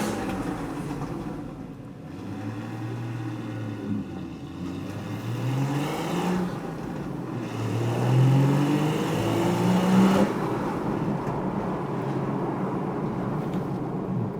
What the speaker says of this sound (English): The tone of the exhaust changes completely.